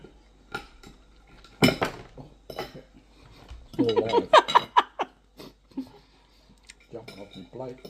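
A lamb chop bone clatters and clinks against a plate among bursts of cutlery and dish sounds, with people speaking and laughing around it.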